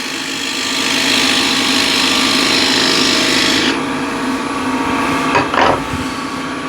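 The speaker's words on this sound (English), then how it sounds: "And we can drill a depth hole." A power drill bores a depth hole into a wooden bowl blank on a lathe, a continuous grinding whir that holds steady before cutting off, followed by a few brief scraping sounds.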